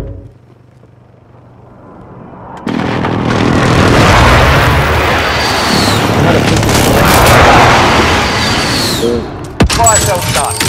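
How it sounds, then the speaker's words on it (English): Precision airstrike explosions in Call of Duty Cold War erupt as a loud, sustained rumbling barrage of booms and blasts lasting several seconds, ending with a sharp crack and scattered gunfire. "friendly precision airstrike inbound"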